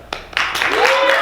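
Studio audience erupting into loud cheering and clapping at a Valentine's Day special performance, a sustained dense roar of applause and whoops swelling up after a couple of sharp claps.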